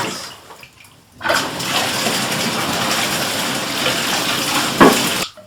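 Water gushes steadily from a faucet onto a Hydro Stop cold-water sock, worn for slalom water skiing. The flow starts abruptly after a quiet second, stays loud and even for about four seconds, then cuts off.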